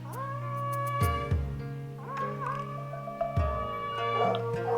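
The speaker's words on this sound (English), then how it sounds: "Then I go back to here and I increase the fox sound." A fox sound effect for a stop-motion animation: a few drawn-out, wavering cries that rise and fall, close and fairly quiet, with no talking.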